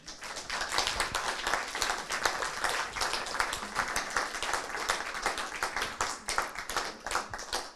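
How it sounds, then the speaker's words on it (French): Steady applause from a conference audience, dense continuous hand clapping that stays fairly loud throughout with no talk over it. "Et on peut t'applaudir."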